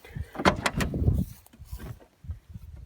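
A rear door on a 1952 Chevrolet four-door sedan stored for decades in a farmyard barn, opened with a few close clunks and rattles, followed by quieter knocks and shuffling.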